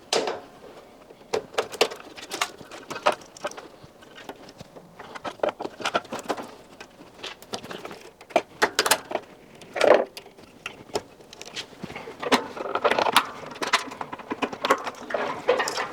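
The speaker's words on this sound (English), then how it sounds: "There's a few clips that I need to just cut." Plastic clips are snipped and worked loose while a built-in integrated Bosch washing machine is dismantled, giving irregular sharp clicks, snaps and light tapping up close, with no talk.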